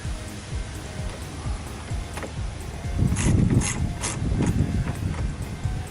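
A ratchet with a 7/16 socket clicks in bursts while snugging a battery connector on a Dodge Dakota, close and crisp ratcheting with brief pauses, louder in the second half.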